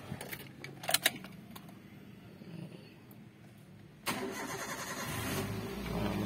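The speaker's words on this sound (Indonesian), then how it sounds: "Nah, mesin langsung nyala." A 2005 Toyota Avanza engine cranks and starts: a few faint key and click sounds, quiet waiting, then the engine catches abruptly and settles into a steady idle nearby.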